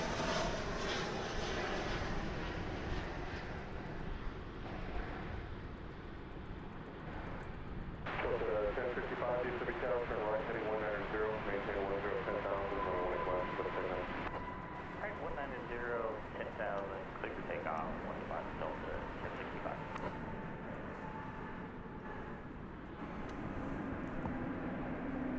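An American Airlines Boeing 737-800 jet airliner arriving at DFW Airport gives a broad, distant engine roar that swells and fades, with faint background noise.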